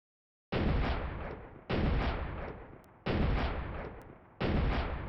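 Automatic rifle fire slowed down about tenfold in World of Guns, heard as four long, booming, evenly spaced reports, each decaying slowly, with no talking.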